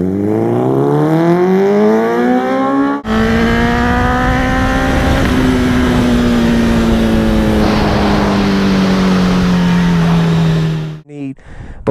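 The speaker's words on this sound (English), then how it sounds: "if you put a hyperflow pipe on like I have on this bike" A motorcycle fitted with a Hyperflow exhaust pipe accelerates hard, its engine note climbing and holding in a loud, close, steady roar before it cuts off abruptly near the end, with wind rush underneath.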